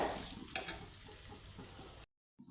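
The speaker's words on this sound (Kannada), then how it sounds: "ಈ ಎಣ್ಣೆಯಲ್ಲಿ ಹಾಕಿ ಫ್ರೈ ಮಾಡೋದ್ರಿಂದ ಅದು ಕೂಡ ಫ್ರೈ ಆಗ್ತದೆ" Grated raw mango and green chillies fry in hot oil for chitranna, a steady broadband sizzle up close that cuts off abruptly near the end.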